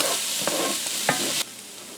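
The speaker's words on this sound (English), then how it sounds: "You just want to wait until that garlic gets fragrant." Garlic and thyme sizzling in oil in a pan, a steady bright hiss with a few scraping stirs, close up, cutting off abruptly near the end to a quieter background.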